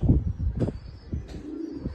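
Domestic pigeons from a home fancier's collection coo in low, throaty bursts, a few rolling calls close by with soft chirps between them.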